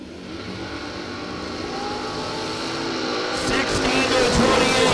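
A drag racing dragster launches and accelerates at a Superbucks Showdown event, its engine roaring in a steady, building wash of sound. The noise grows louder and harsher toward the end, mixed with a crowd and announcer-like background.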